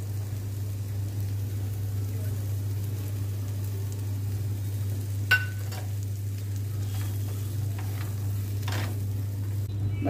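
Vegetables, including corn, fry lightly in a pan for bread pizza, giving a steady soft sizzle over a low constant hum, with a couple of faint clinks from stirring and no talk.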